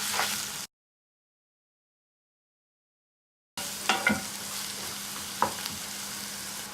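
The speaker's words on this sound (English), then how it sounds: "chopped green chilies or sliced green chilies, fresh curry leaves, onions, cashews. Saute all together." Green chilies, curry leaves, onions and cashews sizzle as they are sautéed together in a pan, a steady close frying hiss broken by a gap of silence and a few scraping stirs.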